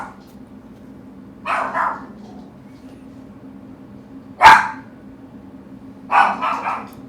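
A pet dog named Uni barks in a room, two short clustered bursts of barking separated by a single sharp bark, moderately close over a steady low hum of background noise.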